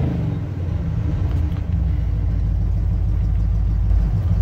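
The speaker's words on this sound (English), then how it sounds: "as we rev the engine up and get some fuel moving through that carburetor" A carbureted truck engine runs close up with its radiator fan blowing hot air toward the carburetor, giving a steady low rumble with a slight lift in level near the end and no talking.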